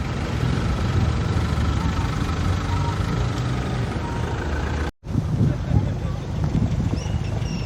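Idling engine of a Rover P38 with 2.5-litre engine at a classic car meet outdoors, a steady low rumble throughout, joined by wind noise and a brief dropout partway.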